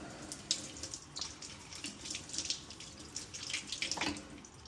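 Water runs from a Moen kitchen faucet to rinse calcium out of parts on hard well water, a steady hiss of flow with faint splashes and drips, fairly quiet and continuous.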